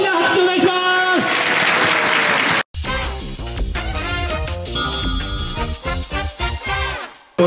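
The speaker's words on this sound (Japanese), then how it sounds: "大きな拍手お願いします。" An audience gives loud, dense applause for a completed countdown board at an Iwaki Sunshine Marathon 2024 event. After a brief cut, upbeat music continues with voices.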